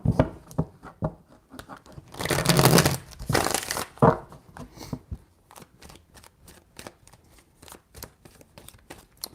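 Tarot cards being shuffled by hand, with quick papery riffles and taps, one longer dense burst of shuffling in the middle, then a run of lighter card flicks, close up and alone.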